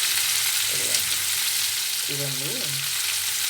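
Ginger garlic paste sizzling in a pan with tomato for tomato rice, a steady broadband frying hiss throughout, with a brief voice speaking over it near the end.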